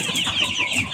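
Kuchinsky jubilee chickens cluck close by in a continuous run of overlapping, busy calls, with no talk.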